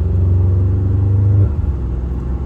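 A Ram 1500 pickup with universal mufflers and a resonator delete, valves open and rolling at low RPM, gives a deep, steady bass exhaust drone that eases off and wavers after about a second and a half.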